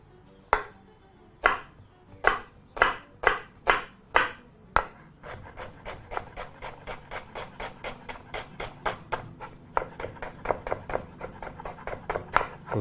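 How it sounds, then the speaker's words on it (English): A knife chops through a medium-sized onion on a cutting board, first as a few loud, spaced strikes, then settling into a quicker, steady run of lighter taps with no talking. "we're going to begin very simply by chopping up our medium-sized onion"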